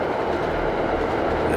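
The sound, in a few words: train passing by in the video game Downfall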